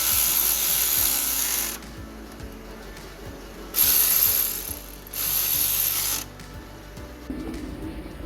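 A ratchet tightening the 12mm alternator bolts on a 2011 Toyota Avensis, loud close rapid clicking in three sustained bursts separated by quieter pauses with faint metallic handling.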